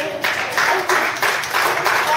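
Applause for Professor Mitchell Small at a public informational meeting on Allegheny County's drilling proposal breaks out in bursts of clapping from a room audience, loud and fairly close.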